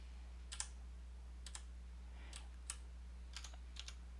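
Keys on a computer keyboard are struck during a live coding session in HTML and JavaScript, coming in short, quiet bursts of a few clicks each with pauses between, over a low electrical hum.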